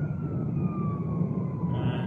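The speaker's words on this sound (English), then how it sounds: "And that's a fire engine coming up," A distant fire engine siren wails with a slowly falling tone over steady engine rumble from a car on a driving test route, faint beneath the road noise.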